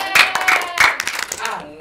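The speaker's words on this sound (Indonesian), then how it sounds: "Tepuk tangan semuanya." A group of young people clapping at a lyric-guessing game, a burst of sharp, uneven hand claps near the listener, with voices talking over them.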